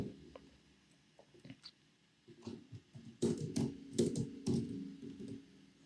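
Computer keyboard keys clatter in uneven bursts while code is edited, sparse taps at first and then quicker, louder clusters of close-up typing, with no talking.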